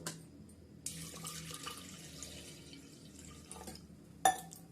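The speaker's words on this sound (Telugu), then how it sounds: "ఇప్పుడు పప్పు ఉడికేదానికి సరిపడే వాటర్ పోద్దాం" Water pouring into a metal pressure cooker with lentils, a thin splashing stream starting after a pause and ending with a sharp clink of metal.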